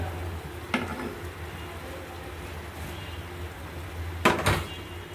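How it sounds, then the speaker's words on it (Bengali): Pointed gourd frying in oil with turmeric, chili and salt, giving a soft steady sizzle broken by two sharp utensil clatters against the pan. "আমি হলুদ আর মরিচ, সিম্পল হলুদ মরিচ আর লবণ দিয়ে পটলটাকে ভেজে নিচ্ছি"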